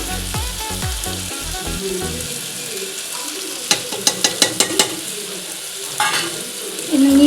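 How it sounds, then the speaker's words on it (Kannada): Egg biryani masala is stirred and fried in a pan, with a steady sizzle, scraping strokes early on and a quick run of sharp spoon knocks against the pan midway, loud and close, no talking. "ಇನ್ನು ನೀಟಾಗಿ ಮಿಕ್ಸ್ ಮಾಡ್ಕೊಳ್ಳಿ."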